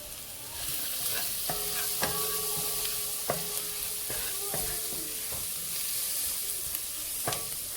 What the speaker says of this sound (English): I'm going to put in some paprika and stir.